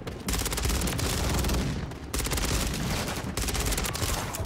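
Gunfire from an ISO 9mm submachine gun in Call of Duty MW3, heard as three loud, rapid automatic bursts with brief gaps between them.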